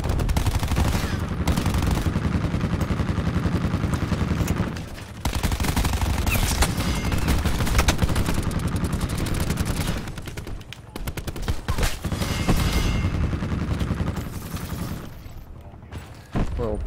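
Pistol fire and other gunshots in the Black Ops 4 beta, Hardpoint mode on the Frequency map. Loud, dense, near-continuous shooting runs almost throughout, with brief lulls around five and sixteen seconds.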